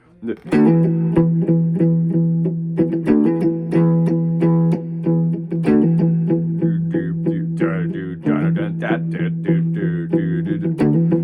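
A buzzy, distorted keyboard bass plays a repeating riff with sustained low notes and rhythmic stabs, loud and up close.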